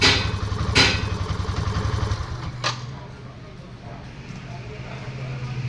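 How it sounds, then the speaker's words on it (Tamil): A fuel-injected motorcycle engine idles with a steady, close rhythmic putter, then cuts off partway through, leaving a quieter background hum with a brief thump or click. "இப்போ வந்து வண்டியை ஆஃப் பண்ணி பார்ப்போம்."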